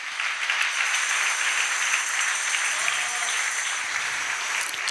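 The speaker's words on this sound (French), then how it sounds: "On acclame le Seigneur Jésus" A church congregation applauds in acclaim of the Lord Jesus, a dense, even wash of many hands clapping together, steady and fairly loud throughout with no talking.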